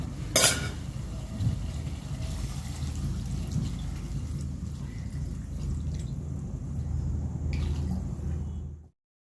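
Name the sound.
water being poured into cooking mutton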